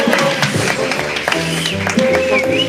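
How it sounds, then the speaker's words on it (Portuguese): A church audience welcomes guests with brief applause and cheering, mixed with loud, busy tonal sound from a band playing close by. "Eu queria que vocês recebessem eles com aplausos, com festa"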